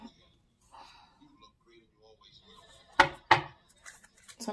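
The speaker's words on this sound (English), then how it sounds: "something's telling me to keep shuffling" Tarot cards riffled in a shuffle, two sharp crisp bursts close by after a stretch of quiet, with soft talking and faint handling noise around them.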